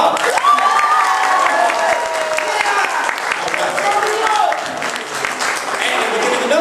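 An anime convention crowd at a BAM-Con 2012 panel applauds a contestant dressed as Link, loud sustained clapping mixed with cheering and crowd voices close by.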